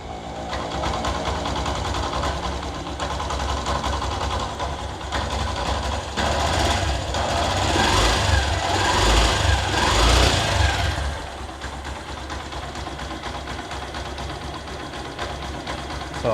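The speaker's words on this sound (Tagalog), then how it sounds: "Basa natin ng konti yung idle. Cold start pa lang to eh." A motorcycle engine idles on a cold start after original stock spark plugs are fitted, with a steady, even, close-up putter and a rapid ticking rhythm that rises slightly midway, then settles.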